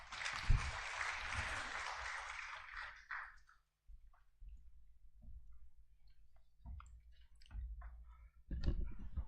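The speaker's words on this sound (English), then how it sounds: "Please give a huge round of applause here." Applause from the audience at a national convention of insolvency professionals, a burst of clapping for about three seconds that cuts off, then faint scattered sounds before another short swell at the end.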